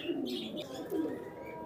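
Two large Indian Nazra Kaldam pigeons cooing close by, a soft low rolling coo repeated twice in quick succession over a faint background.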